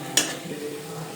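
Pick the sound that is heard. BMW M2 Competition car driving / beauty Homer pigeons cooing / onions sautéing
onions sautéing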